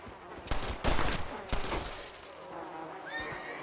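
Gunfire in Red Dead Redemption: Undead Nightmare, several sharp shots in quick succession followed by a fainter later shot, with a horse whinny nearby and background game ambience.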